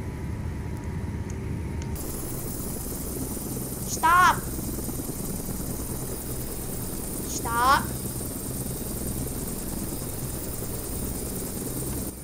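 A helicopter's engine and rotor drone steadily in Flight Simulator X, a constant mechanical whine running throughout, with a shouting voice over it twice.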